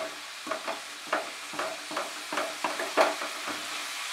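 Fenugreek greens cook down in a hot pan for a chicken methi curry, with a steady soft sizzle and repeated scraping stirs about twice a second, close and moderately loud, no voices.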